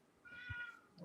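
A cat gives one drawn-out meow, nearby and clear. A brief low thump falls in the middle of the call, and no one speaks.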